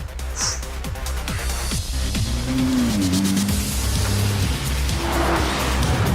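A 2013 Nissan GT-R Nismo sports car drives with a loud, steady engine drone and a rising gear-driven whine, with brief tire noise, close and continuous throughout.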